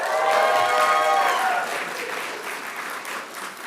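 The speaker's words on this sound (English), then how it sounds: "So let's clap it up, please." An audience at a campus event gives a round of applause, dense clapping with a faint cheer at the start that gradually tapers off.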